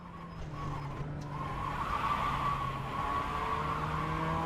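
A racing car oversteers at Barber in a sim racing game, tires skidding in a steady squeal over a sustained engine drone, close and continuous with no talking.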